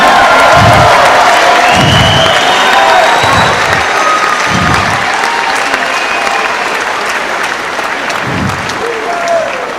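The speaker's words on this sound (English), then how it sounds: "So let's give him another round of applause" A crowd at a professional heavyweight boxing event applauds loudly and continuously, with cheering, whoops and several heavy low thumps mixed in, while a voice speaks over the clapping.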